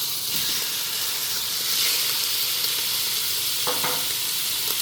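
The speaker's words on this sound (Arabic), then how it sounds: "واول ما السمنه بتاعتنا تسيح كده هننزل بقى ان شاء الله بالجمبري" Shrimp sizzling in melted ghee in a pot, a loud steady frying hiss close by with occasional stirring, no talk.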